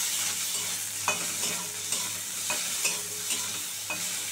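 Egg, cabbage and tomato sizzle steadily in a hot pan while a spatula stirs them, giving a string of sharp scraping strokes at a loose, regular rhythm, close up and with no voices.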